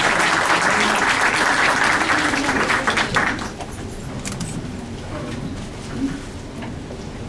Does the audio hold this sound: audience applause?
yes